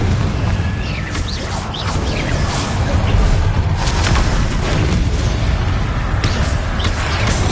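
Confringo blasting spell explosions in Hogwarts Legacy, a loud, dense, continuous roar of booming blasts and crackling bursts that fills the whole stretch with no pause.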